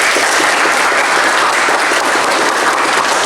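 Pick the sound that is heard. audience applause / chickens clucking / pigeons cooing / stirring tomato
audience applause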